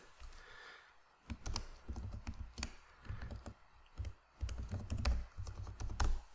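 Rapid keystrokes on a computer keyboard as a password is typed, a close, dry series of clicks and taps in uneven bursts with brief pauses, no talking.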